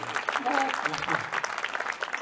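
An audience at a Hindi kavi sammelan claps for the host, a lively burst of applause with voices and murmurs mixed in.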